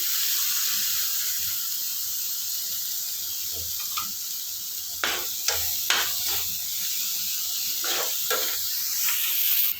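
Carrot garlic chutney with lemon juice sizzles steadily in a hot pan while a spatula stirs it, scraping in a series of close, rhythmic strokes over a constant frying hiss.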